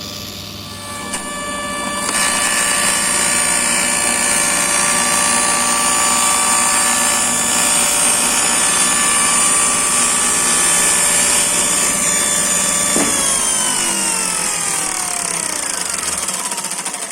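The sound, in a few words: table saw cutting a zero clearance throatplate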